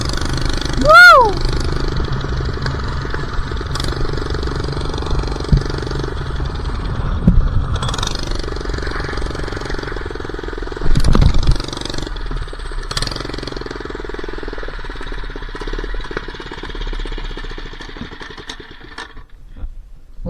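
A minibike engine drones steadily while being ridden outdoors, with a rider's brief shouts over it and a couple of louder swells, fading toward the end.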